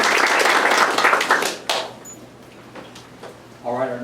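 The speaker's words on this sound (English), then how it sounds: "Let's give him a round of applause." A room of board members applauds a new member at a Vaya Health board of directors meeting, a dense burst of clapping that fades out after a couple of seconds, followed by quieter room tone and a brief voice.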